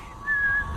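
A man whistles a single steady, sustained note, clear and close, in a quiet woodland scene of an audio drama.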